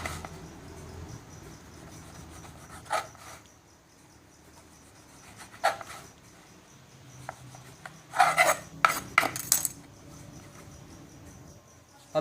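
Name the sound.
knife cutting bread slices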